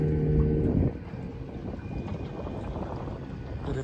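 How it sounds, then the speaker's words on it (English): Steady wind buffeting across a river where a fishing boat sits at anchor, a low rumbling roar that holds fairly constant after a louder burst at the start. "The wind's picking up steadily."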